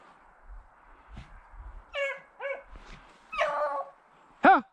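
Dogs out on a first day of work give several short barks, yips and whimpers at moderate distance, separated by brief pauses, with a faint low rumble underneath.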